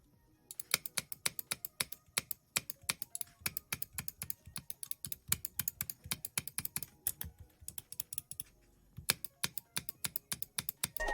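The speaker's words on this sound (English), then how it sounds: "you'll click it once and it will sound like a double click, or it will get stuck" Finalmouse Starlight computer mouse with a sticky switch, producing sharp, rapid clicks in irregular bursts and doubled strikes, close and crisp with no talking, pausing briefly near the end before resuming.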